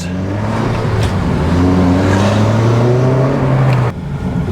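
A high-mileage Honda Civic Type R FN2 with a new clutch, modified into a track day car, accelerates hard with a loud, rising engine note from inside the cabin, dropping off abruptly near the end as the gear changes.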